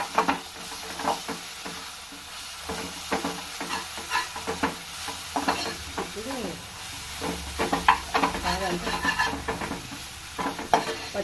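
Turmeric and spices fry in a pan for garelu pulusu, a continuous sizzle broken by repeated scraping stirs of a spoon against the pan, close and moderately loud.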